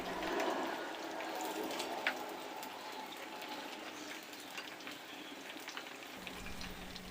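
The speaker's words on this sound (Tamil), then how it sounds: "எண்ணெய் சூடானதுக்கு அப்புறமா நம்ம கட் பண்ணி வச்சுருந்த கத்திரிக்காவை அதில் சேர்த்து அதோடைய தோல் கொஞ்சம் ப்ரௌன் கலர் ஆகிற வரைக்கும் வேக விடலாம்." Cut brinjal (eggplant) pieces fry in hot oil until the skins brown, making a continuous close sizzling hiss with small crackles and occasional clinks, steady for several seconds.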